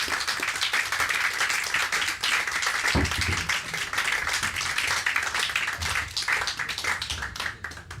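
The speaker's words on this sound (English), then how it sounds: "Give him a round of applause" A live cinema audience in Margate gives a sustained round of applause, with close, crisp individual claps over a dense crowd wash that briefly swells and then tapers near the end.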